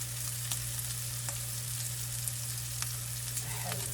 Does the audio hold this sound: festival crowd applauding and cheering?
no